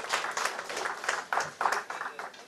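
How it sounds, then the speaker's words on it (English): Audience applause welcoming a speaker at a submarine technology conference session, a brief patter of distinct claps from a modest crowd, fairly quiet and uneven in rhythm. "Let's welcome him with a big round of applause"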